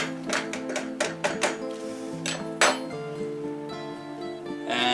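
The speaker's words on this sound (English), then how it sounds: "poke that through with a fork" Metal fork clinking and tapping against a dish while poking holes through a quiche, several quick sharp taps with ringing tones and a louder clank near the middle, no talk.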